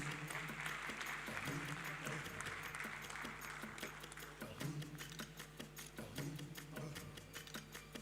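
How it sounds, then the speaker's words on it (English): Summit audience claps in sustained, fairly quiet applause, a dense patter of many hands that rises and falls slightly in intensity without fading out. "Let's give her a round of applause."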